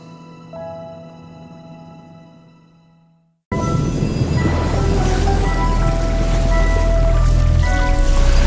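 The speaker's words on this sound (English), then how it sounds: "It's raining!" Rain in the video game Genshin Impact, set in Fontaine. Soft tonal music fades to near silence, then a dense, steady hiss of falling rain starts abruptly and continues loudly to the end.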